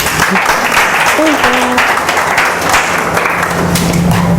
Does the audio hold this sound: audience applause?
yes